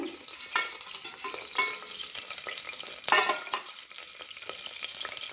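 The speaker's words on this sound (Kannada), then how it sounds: "ಒಗ್ಗರಣೆ ಸಾಮಾನು ಹಾಕೋಣ" Oil sizzles steadily as lentils and cumin are tempered, with a few sharp crackling pops and spoon scrapes; close and moderately loud, no voices.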